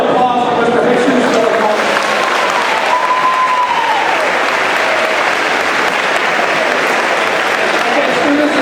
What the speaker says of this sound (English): please join me in one more round of applause for Mr.